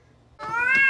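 A cat gives one loud, close meow that rises and holds, starting suddenly after a brief near-silent moment.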